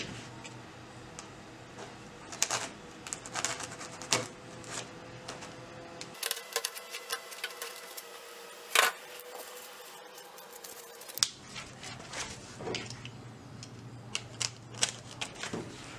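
A blade cuts a rectangular shape out of material for a model rolling-stock cradle and inspection pit, with steady small scraping and ticking cuts and a few sharper snaps, close and fairly quiet over a low background hum.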